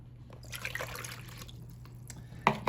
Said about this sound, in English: Now to get this started, we're going to add our water,